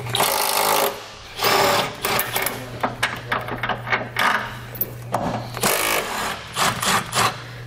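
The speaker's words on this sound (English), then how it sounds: "take a 17 millimeter socket to remove these 2 bolts on our tow hook" Power tool driving a 17 millimeter socket to remove two tow hook bolts on a 2016 Lexus RX 350, loud whirring bursts with pauses and clicks between, close up with no talk.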